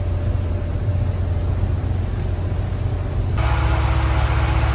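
A motorboat's twin engines drone steadily while running through five-foot seas, a loud continuous rumble with rushing wind and water that swells brighter near the end.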